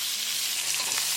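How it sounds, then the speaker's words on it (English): Tomatoes cooking in a pan with garam masala, coriander, cumin and chilli powders for a chicken drumstick curry, giving a steady close sizzle and frying hiss with light stirring. "Cooking tomatoes for 3 minutes."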